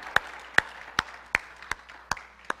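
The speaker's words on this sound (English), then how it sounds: "Give him a clap of praise." A few slow, separate hand claps ring out in a church service, about seven sharp claps evenly spaced, fairly near, with no talk over them.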